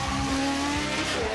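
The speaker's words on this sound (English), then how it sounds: "unless of course you burn rubber for the cameras" A Legends race car squeals its tyres and burns rubber, loud sustained screeching over a revving engine whose pitch sweeps up and down in repeated bursts.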